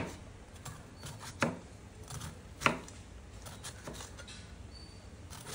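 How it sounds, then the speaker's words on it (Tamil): Knife chopping bitter gourd into thin slices at home, a steady series of soft, fairly quiet cuts with two sharper chops standing out, no talking. "எல்லா பாவக்காயும் கட் பண்ணிட்டேன்."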